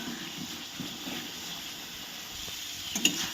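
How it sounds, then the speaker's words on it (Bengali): Potatoes fry and get stirred with spices in a pan while a Bengali fish curry is being made. A soft, steady sizzle runs throughout, with a few faint scraping clicks near the end. "দেখুন আমি মশলার সঙ্গে আলুটাকে ভালো করে কষিয়ে নিচ্ছি।"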